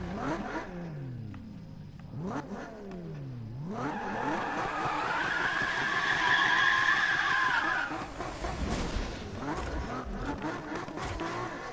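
A revving car engine with long screeching tire skids in the video game Need for Speed (2015), rising and falling as the car slides and accelerates, loud and continuous with a synthetic, game-like tone.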